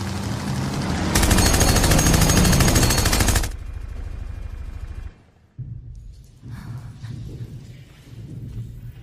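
Gunfire in an animated cartoon dubbed in Persian: a loud, rapid burst of automatic fire lasting a couple of seconds, followed by lower rumbling effects and a brief drop to near silence.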